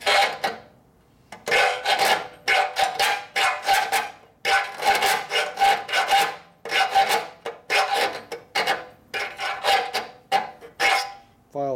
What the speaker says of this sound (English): I'm holding the file straight.